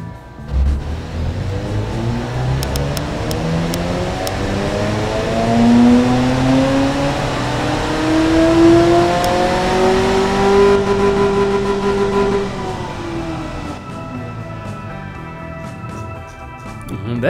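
A car engine with baffled sports exhaust mufflers in a video game revs steadily, its droning pitch climbing and then falling back across a long, loud, continuous run, with no voices.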